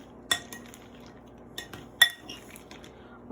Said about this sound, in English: so the caramel over the white chocolate chips, and I'm giving it a good stir so that all of the white chocolate is coated